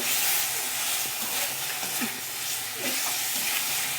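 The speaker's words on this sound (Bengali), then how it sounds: "আলুটাকে দিয়েও আমি একটু কষিয়ে নিয়েছি খুব ভালো করে" Potatoes are sautéed and stirred in a pan for an egg curry, giving a loud, continuous close-up sizzle with occasional soft scraping of the spatula.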